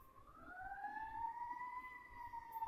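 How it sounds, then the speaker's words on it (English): A distant emergency vehicle siren wails in a slow rising and falling tone, faint but clear against quiet surroundings, with no voices. "I'm waiting for the siren"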